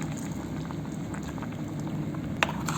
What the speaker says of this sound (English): You can see that the curry has started to boil.